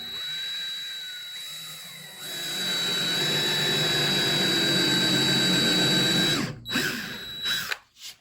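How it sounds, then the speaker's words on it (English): A power drill whines steadily for several seconds, its pitch holding as it bites into wood, then cuts out with a few short bursts. "your screw is gonna have enough teeth to bite into the wood after you drill the hole"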